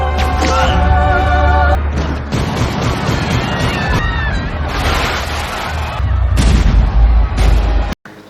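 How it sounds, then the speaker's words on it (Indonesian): Gunfire and heavy booms from the action film The Replacement Killers, loud and dense with crashing impacts, tonal score and shouting voices mixed in before an abrupt cut near the end. "si Asep Bagong terbunuh oleh senjata John"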